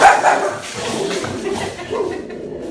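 A dog barks a few times at moderate distance, sharp yips followed by quieter whimpering sounds against a soft background.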